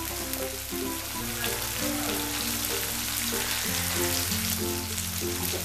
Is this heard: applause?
no